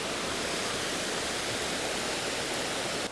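A Tasmanian waterfall roars close by in a steady, dense wash of rushing water with no breaks or talk.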